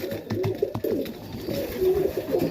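Highflyer tippler pigeons cooing close by, soft low throaty coos repeating in a loose rhythm over a quiet background.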